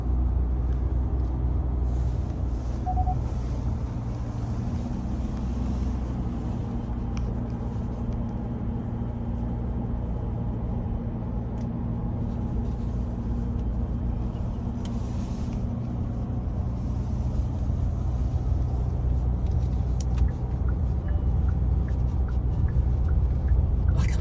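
Kia Tasman ute accelerating hard on the road, heard from inside the cabin as a steady engine and road rumble with tyre noise, continuous and fairly loud throughout.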